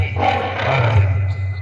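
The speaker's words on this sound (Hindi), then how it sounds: "ये शेर की आवाज है।" A deep, loud roar rumbles close by, sustained and throaty, like a big cat growling low for a couple of seconds.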